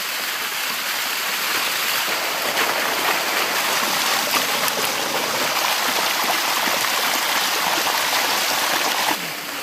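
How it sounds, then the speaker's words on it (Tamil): Water runs during chicken preparation at a Pakistani street food stall, a loud, steady, close rushing stream that continues without a break before stopping abruptly at the end. "தண்ணி"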